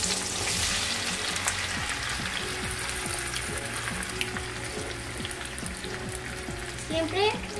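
Potato slices frying in hot oil for a Spanish tortilla, a dense steady sizzle with occasional crackles, close and continuous throughout, with faint background noise.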